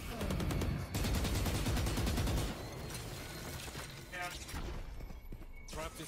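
Rapid gunfire bursts from the Valorant shooter game ring out loud and close in a dense, sustained volley, with a player talking over the shots and further scattered gunfire following.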